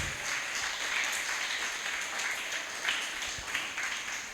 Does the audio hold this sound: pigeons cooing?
no